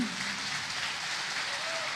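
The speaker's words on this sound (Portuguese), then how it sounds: "Você pode dar uma salva de palmas para Jesus" A church congregation gives a round of applause for Jesus during a service, a dense, continuous wash of clapping with no distinct individual claps standing out.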